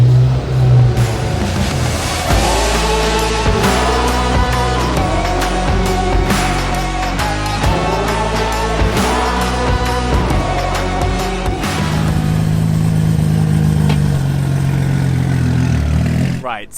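Turbocharged 500-horsepower Ferrari 348 GTS road-legal challenge car engine revving repeatedly in close, loud, rhythmic pulses, then settling toward a lower drone, with someone talking over parts of it.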